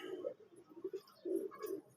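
A fancy pigeon coos softly and faintly, giving several low, rounded calls in a short uneven series, with a slightly stronger pair of coos near the end.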